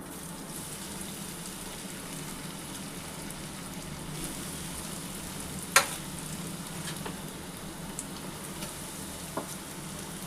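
Potatoes fry in oil in a kadhai with a steady, moderate sizzle and a few small pops and clinks, and no talking.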